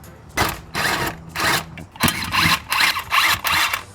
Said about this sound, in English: I'm going to jack it back up and hit the bolts on the other side